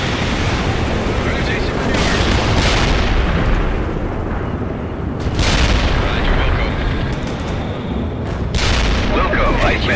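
Gunfire and artillery in the World in Conflict video game roll on in a loud, unbroken battle din, heavy booms swelling every few seconds over constant crackling shots, with voices talking under the noise.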